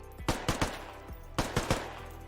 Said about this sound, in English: Full auto is not really viable in this game.